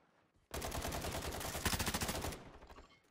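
Rapid automatic gunfire in a video game, a loud sustained burst of closely spaced shots lasting about two seconds before cutting off into quiet.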